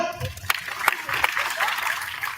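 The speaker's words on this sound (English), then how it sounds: "round of applause" Audience applause at a National Space Day event, a modest scattering of claps with a few sharper hand strikes over a murmur of voices.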